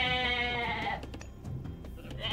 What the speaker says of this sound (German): Ah, noch mehr Ziegen.